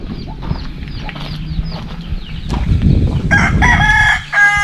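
A rooster crows loudly near the end, a strained rising call over a busy background of rustling and scattered clucking from other fowl.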